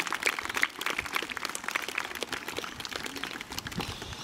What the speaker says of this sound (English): So can everybody give the Year 6s a round of applause,